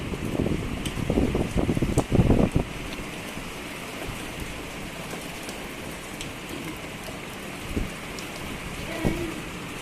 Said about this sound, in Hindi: शाम में हो गई थी जी हल्की सी बारिश